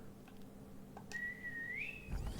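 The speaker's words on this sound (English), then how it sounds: "Okay, whistling works." A single person whistles one short, soft wavering note that slides upward at the end, close but quiet over faint room hum and a few small knocks.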